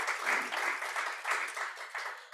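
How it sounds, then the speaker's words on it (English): A conference audience claps in a steady round of applause, a dense patter of many hands that rises and falls in small swells, fairly quiet and with no voices over it. "A big round of applause for Daniela."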